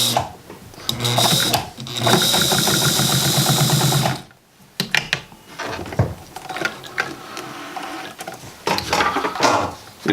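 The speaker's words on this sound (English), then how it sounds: "I am sewing the ends of the belt onto the top of the bib." An old Italian sewing machine, a 1957 model, drives stitches through heavy belt leather sewn onto upholstery leather for a blacksmith's apron, with rapid mechanical clatter in bursts broken by brief pauses, close and loud.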